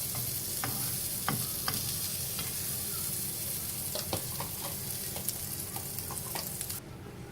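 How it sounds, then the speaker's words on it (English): Egg frying with buttered bread in a pan for an egg-in-the-hole breakfast, a steady close sizzle with occasional crackles and pops throughout, no talking. "once the egg is cracked, we are going to close it with a lid and let it cook for a couple of minutes"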